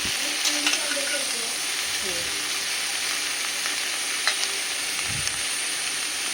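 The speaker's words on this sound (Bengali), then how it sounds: "আমি এবার এগুলোকে ভেজে নিচ্ছি ভালো করে কষিয়ে ভেজে নেবো" Ridge gourd and potato frying in a pan, making a steady, moderately loud sizzle with a few stirring knocks and scrapes and some faint speech in the background.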